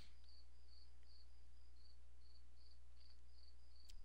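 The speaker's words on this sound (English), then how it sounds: "The chirping of the crickets that are outside." Crickets chirping outdoors at night, a faint, steady run of evenly spaced chirps over a low constant hum, with no voices.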